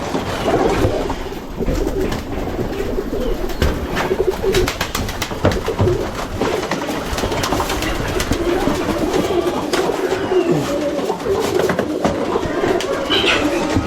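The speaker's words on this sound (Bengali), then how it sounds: "অনেক অনেক কষ্টে এই কবুতরটা ধরলাম" Pigeons cooing in a coop as one bird is caught, with soft repeated coos and scuffling wing movement up close over a busy, noisy background.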